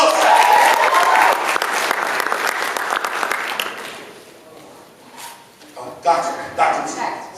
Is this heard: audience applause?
yes